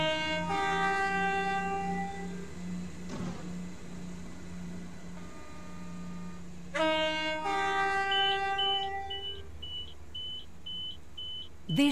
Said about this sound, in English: train now approaching platform 5 terminates here